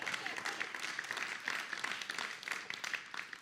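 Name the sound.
audience applause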